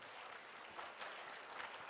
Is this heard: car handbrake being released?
no